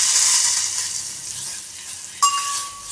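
About two spoons of white sesame seeds sizzle and crackle in hot oil, a steady bright hiss that thins out, followed by a brief metallic clink near the end.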